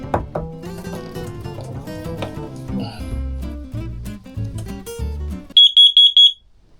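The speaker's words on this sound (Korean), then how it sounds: "경보 울렸다고" A carbon monoxide alarm being tested gives a short, loud burst of about five rapid high-pitched beeps, which follows music and then stops abruptly.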